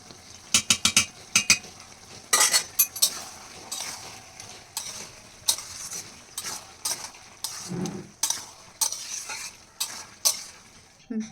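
Traditional Bengali jackfruit and prawn curry is stirred in a pan after ground garam masala goes in, with rapid clattering utensil knocks and scrapes over a low sizzle, close and lively, with no talking.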